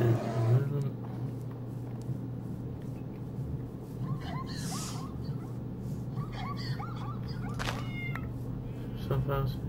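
Short game meows from a cat in a modded Minecraft world, a few soft calls scattered across a steady hum of background game ambience and a low droning tone.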